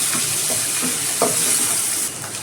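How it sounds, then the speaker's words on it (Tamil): Steady sizzling of onions frying in a pan, with a few soft scraping stirs, close and continuous. "நல்லா வதக்கிக்கிறோம்"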